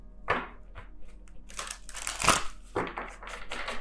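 Tarot cards are shuffled up close, with scattered crisp riffles and papery crinkling in quick, uneven bursts.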